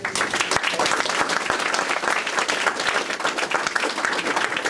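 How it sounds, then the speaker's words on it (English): An audience applauds steadily to welcome a guest speaker at an event honouring a representative, dense overlapping clapping filling the room at moderate volume without pause. "Give him a warm round of applause for Michael Wolfman."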